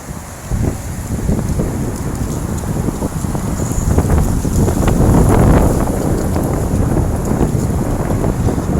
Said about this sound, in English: Every time the wind picks up hard, I've got to kind of get a better grip on you guys to keep the wind from throwing you around.